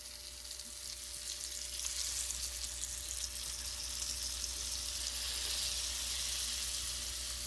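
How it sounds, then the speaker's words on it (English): Salmon fillet laid skin side down in a hot pan gives a steady, loud, broadband sizzle that holds evenly throughout, with a faint low hum beneath. "Okay, so I'm going to place the salmon skin side down."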